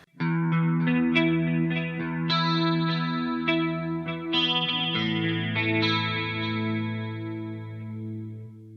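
Clean electric guitar through a Line 6 Helix: notes and chords ring out with shimmering chorus, trailing delay repeats and spacious reverb, played alone at a steady moderate level.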